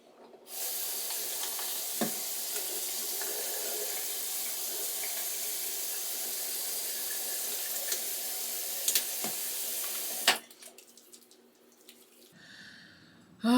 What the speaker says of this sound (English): I'm gonna come back and like wash my face